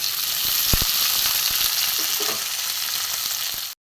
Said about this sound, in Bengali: তেলও গরম হয়ে গেছে, আমি পেঁয়াজটা ছিটিয়ে দেবো।